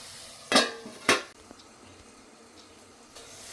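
A metal lid clanks twice onto a cooking pot of onions and garlic on the stove, two sharp close clatters followed by a quiet simmer.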